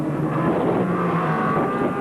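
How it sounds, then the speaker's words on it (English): A 1987 Australian Touring Car Championship race car's engine drones steadily under load as it exits a corner at Calder, loud and continuous with a slight carburetor hiccup. "I got a bit of a carburetor hiccup there too."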